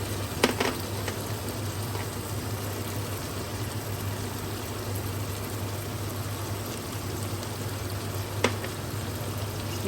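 Beef with onions and carrots fries in a pan for a goulash, a soft steady sizzle with a low background hum and a couple of faint clinks from stirring.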